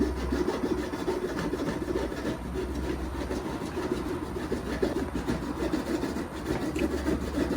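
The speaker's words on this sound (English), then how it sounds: "just use a little Japanese saw here to trim off the ends." Steady back-and-forth sawing as a small fine-toothed Japanese hand saw trims the ends of scrap wood, rasping continuously at close range with no pauses.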